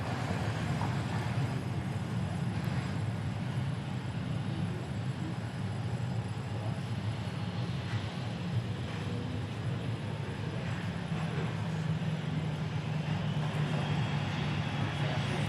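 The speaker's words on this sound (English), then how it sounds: "Looks like we got Lubbock arriving. Southwest Airlines flight." A Southwest Airlines jet arriving on runway 13 right at Dallas Love Field, heard as a steady broad roar of engine noise, distant and continuous, with no talk.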